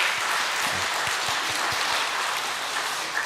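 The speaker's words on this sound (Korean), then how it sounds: "우리 박수로 격려 한번 해주죠" A church congregation gives steady, sustained applause, a dense wash of clapping filling the room without a break.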